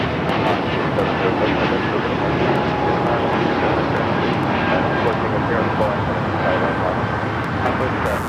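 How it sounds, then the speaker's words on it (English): A Boeing 777 jet at LAX begins to taxi, giving a steady, loud engine roar with a faint whine that holds evenly throughout over a broad airport wash. "Got that 777 starting its taxi."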